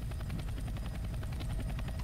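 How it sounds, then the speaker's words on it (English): A helicopter in the Roblox game Redwood Prison, a steady rapid rotor chop with a low engine rumble, continuous and fairly faint with no talk over it. "I will literally shoot down your helicopter."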